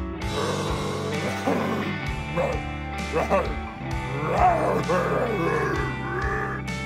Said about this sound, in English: Three growls now?